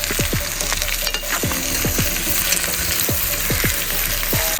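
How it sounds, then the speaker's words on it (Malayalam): Sliced onions frying in hot oil for a pork leg fry, a loud, steady sizzle with repeated scraping stirs of a spoon in the pan and no talking. "സവാള ഇറക്കി കൊടുത്തിട്ടുണ്ട്"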